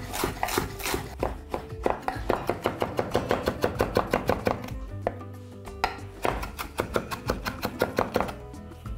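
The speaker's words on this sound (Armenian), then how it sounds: "սրանք մանր կտրատում և ավելացնում ենք մսին" Fresh herbs being finely chopped with a knife on a board for a beef rib dish, a fast steady run of crisp close knocks in two bursts with a short pause between, no talking.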